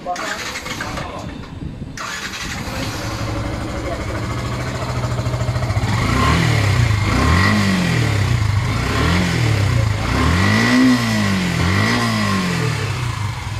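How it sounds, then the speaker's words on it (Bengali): A Yamaha FZ V2 motorcycle engine starts, settles into a rough idle, then revs up and down several times, loud and close. "এটা হচ্ছে বাইকের সাউন্ড।"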